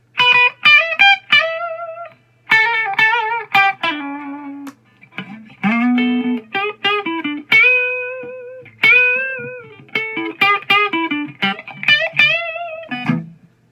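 Distorted electric guitar playing short chords and riffs in bursts separated by brief pauses, loud and gritty with a buzzing, saturated tone.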